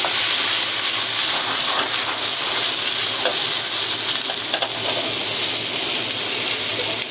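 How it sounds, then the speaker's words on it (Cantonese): Carrots stir-fried in a hot wok with golden fried ginger for a celery and grouper dish, a loud, continuous close sizzle and hiss with stirring throughout, no talking. "先放紅蘿蔔先啊！ 咁咧先爆一爆佢先"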